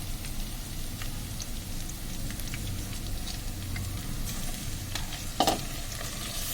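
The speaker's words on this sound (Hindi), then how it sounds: "चिकन को फ्राई करेगी लहसुन अदरक के पेस्ट में" Chicken pieces fry in garlic-ginger paste in a pan, giving a steady close sizzle with crackling pops and occasional stirring scrapes, no voices.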